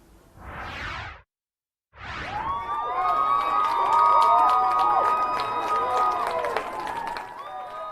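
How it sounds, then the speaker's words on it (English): A crowd cheers, shouts and claps at 38th and Chicago in Minneapolis after the Chauvin verdict. Two short bursts come first, then a sustained, loud swell of voices and whistling with no single speaker. "Cheering and clapping taking place at the corner of 38th and Chicago"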